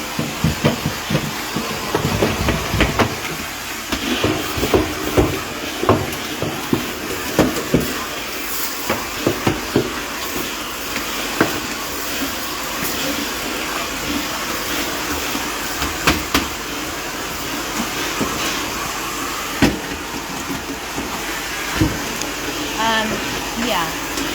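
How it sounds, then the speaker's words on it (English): A vacuum cleaner run over a wall, a continuous airy hiss broken by repeated clunks and bumps as the nozzle scrapes along the surface, fairly close and loud, with a person talking at times. "So I'll tell you, yes, I'm vacuuming the wall."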